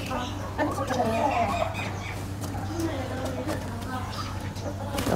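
Turkeys cluck and gobble in a cage outdoors on a cool, breezy day, alongside other farm birds, with steady background hum and a voice talking over the birds.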